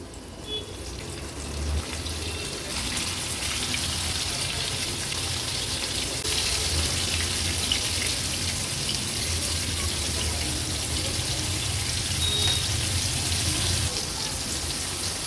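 Mandeli fish sizzling as they are added one by one to hot oil over a medium gas flame, a steady close crackle and hiss running throughout with no talk, Agri Koli style fry.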